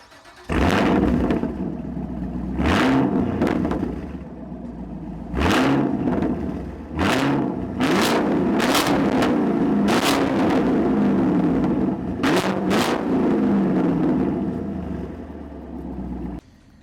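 A 2023 Camaro SS 1LE with a naturally aspirated 6.2-liter V8 fires up and is revved repeatedly, loud close throttle blips and booming bursts over a rumbling idle, with no talking.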